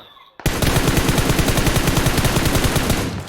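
Loud, close, sustained automatic gunfire in a video game bursts in after a quiet start, a rapid, even stream of shots lasting nearly three seconds.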